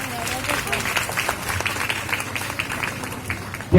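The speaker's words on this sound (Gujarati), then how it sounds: "આપણે એમને તાળીઓના ગડગડાટથી વધાવી લઈશું." Audience applause at a women's empowerment celebration in Patan, a steady dense clapping from a crowd that holds throughout with a sharp louder burst at the very end.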